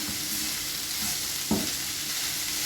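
Boiled potato and raw vegetables being stirred in a hot pan for veg bonda filling, giving a steady close sizzle with one brief scraping knock of the spoon midway.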